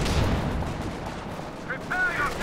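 Katyusha rocket artillery fires in a Company of Heroes 2 match, a dense rumbling barrage of booms and blasts that rolls on throughout, with a faint whistling streak near the end and a commentator's voice partly over it.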